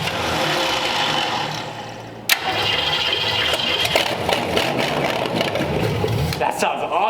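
A Ford 289 V8 runs in a 1947 Ford with an open manifold and no exhaust, giving a loud, raw, steady rumble that continues throughout, broken by one sharp metallic transient partway in.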